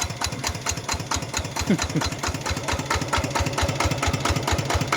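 A used Siam RT110 walking tractor engine runs at close range, giving a steady rapid single-cylinder thumping that pulses evenly throughout.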